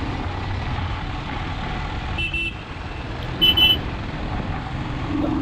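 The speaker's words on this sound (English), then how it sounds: "traffic, yeah." Steady road traffic roars near the Durgam Cheruvu cable bridge, with a continuous engine and tyre rumble broken by two short vehicle horn toots in the middle.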